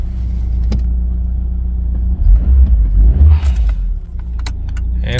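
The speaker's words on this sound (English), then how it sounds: "Start the car." A Mitsubishi Lancer engine cranks and catches, a loud rumbling burst of a few seconds rising over a steady idle hum, with a brief metallic jingle like keys just before.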